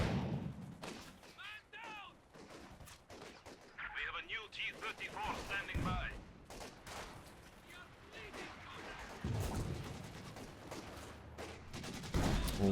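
Battle in Company of Heroes 2 with bursts of heavy gunfire and booming impacts, rapid crackling volleys that rise and fall over several seconds. A commentator talks over the fighting throughout.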